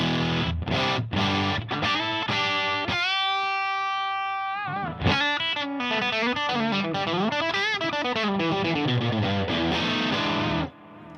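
An electric guitar played through a Mosky D250X overdrive pedal with extra gain: crunchy distorted riffs, a sustained ringing chord and bending lead phrases, loud and continuous for about ten seconds before cutting off.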